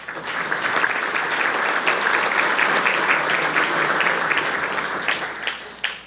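Audience applause in a conference hall during a real estate standards fall conference welcome session, a sustained wash of many hands clapping at even loudness for about six seconds before tapering off.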